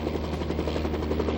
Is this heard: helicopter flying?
yes